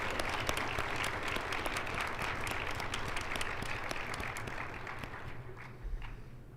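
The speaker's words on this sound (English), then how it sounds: "give yourself a loud round of applause for your cheer leadership" Graduates at a university winter commencement clap for themselves in a hall, a crowded burst of applause with sharp individual claps that gradually thins and fades toward the end.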